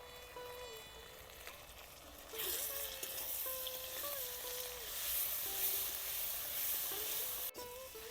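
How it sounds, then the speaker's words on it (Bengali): Ground cumin, mustard, coriander, chili powder, salt and turmeric fry in a pan for a soybean curry, a quiet sizzle that swells partway through and holds under faint background music. "মশলাগুলো 2-3 মিনিট ভেজে নিলাম"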